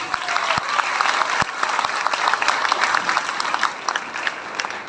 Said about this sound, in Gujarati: માઈ માટે ફરીથી એકવાર આપણે તાળીઓ પાડીશું પ્લીઝ